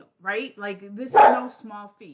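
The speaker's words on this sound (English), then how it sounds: "Sorry about the dogs." Dogs barking in the background behind a person who keeps talking, with a brief sharp bark breaking through near the middle.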